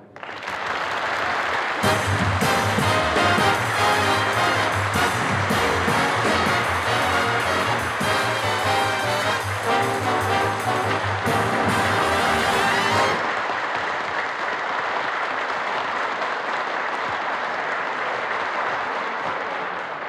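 A studio audience at an Italian radio variety show greets the singer with sustained applause, loud and dense, while band music plays over it before the music stops and the clapping carries on alone.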